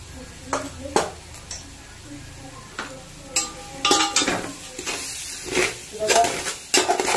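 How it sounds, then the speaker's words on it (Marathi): A spoon stirs masala spices, including coriander powder, in a metal pan for soya biryani, making intermittent scrapes and clinks at close range, with soft background noise and no talking. "मसाला मस्त मिक्स करून घ्यायचा आहे."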